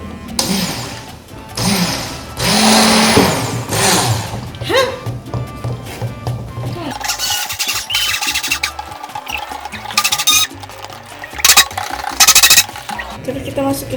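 A mixer whirring as it stirs lye and oil together for homemade organic soap bars, a motor drone rising and cutting out in bursts with thunks of the bowl, heard close and loud.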